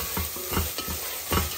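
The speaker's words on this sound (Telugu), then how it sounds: "ఓకే ఇప్పుడు కారం కూడా కలిపేస్తున్నాము." A spoon stirs chili powder into masala multigrain kichidi sizzling in a pan, making repeated scraping strokes over steady frying crackle, close and alone with no voices.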